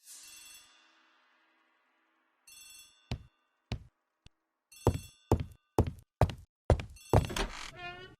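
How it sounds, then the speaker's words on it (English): A telephone bell rings in a hall inside a villa in the video game Agatha Christie: The ABC Murders, sounding in a series of sharp, evenly spaced rings after a short chime, clear and close with no talk. "The telephone in the hall is ringing."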